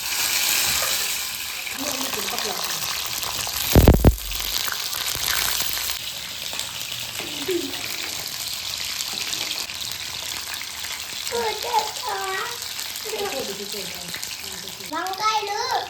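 Eggplants fry in hot oil with a constant crackling sizzle, fairly close, joined by a brief sharp clatter, while people talk over it.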